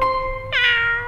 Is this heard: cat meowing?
yes